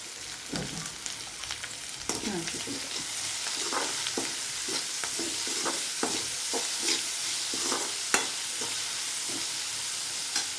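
Onions fry in a pan for broken wheat upma while a spoon stirs them, giving a constant bright sizzle with scattered scraping knocks, one sharper clack near the end, close up and with no one speaking.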